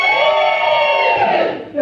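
A comedy club audience cheers and whoops in a loud, sustained burst that fades slightly near the end, with a mix of voices blending into crowd noise.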